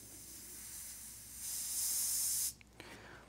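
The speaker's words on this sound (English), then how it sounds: "I will now cool down the sensor using this standard cleaning spray" Standard cleaning spray is sprayed onto a sensor to cool it, giving a steady, fairly quiet hiss that swells for about a second, then cuts off abruptly, followed by faint clicks.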